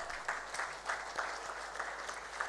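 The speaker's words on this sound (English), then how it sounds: "Please a round of applause for her." Audience at a trade seminar applauding, a fairly faint, steady patter of many hands clapping with small swells throughout.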